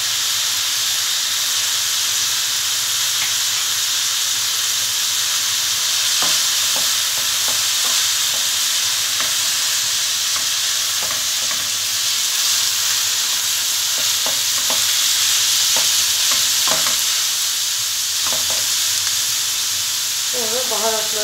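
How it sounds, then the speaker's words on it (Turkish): Onion and garlic frying in a pan make a constant loud sizzle and hiss with a steamy edge, lasting the whole stretch and broken by repeated scraping stirs and light utensil taps nearby. "Soğan erirken sarımsaklarımı atıyorum içine."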